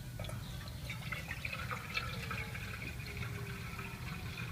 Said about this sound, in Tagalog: So gagamit lang tayo ng isang pot at lalagyan natin ng tubig.